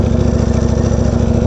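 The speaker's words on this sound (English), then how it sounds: "the exhaust is definitely louder than the clutch, but I do hear both" A Ducati Panigale V4R fitted with a dry clutch rumbles loud and close, its exhaust holding a steady, throbbing low drone throughout with no voices.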